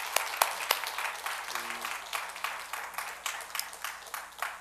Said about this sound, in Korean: 박수라도 한번 좀 보여드리겠습니다.